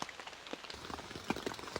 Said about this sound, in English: So I think maybe the rain is going to start coming through.